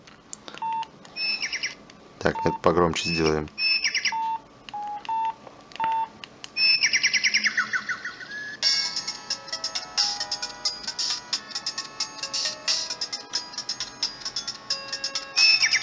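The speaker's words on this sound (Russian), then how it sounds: "Давайте послушаем старые рингтоны." Old polyphonic ringtones from a Samsung C100 mobile phone: a string of short electronic beeps and melodic tones, then a longer bright jingle, loud and close, with a brief spoken remark near the start.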